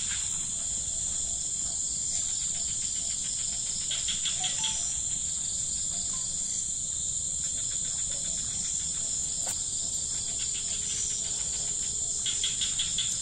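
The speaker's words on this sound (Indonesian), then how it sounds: "Suara anjing, suara jangkrik." Crickets chirp steadily at night on the edge of an Indonesian village, a dense continuous trill with pulsing bursts that keeps a constant level from start to finish, with no voices.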